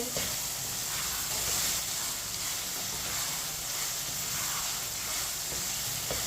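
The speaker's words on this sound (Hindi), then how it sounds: "चनों को मिक्स करके 2 मिनट के लिए पका लेंगे चम्मच चलाते हुए।" White chickpeas cooking in a pan while being stirred with a spoon give off a steady, continuous sizzle and hiss with faint scraping, close and even throughout.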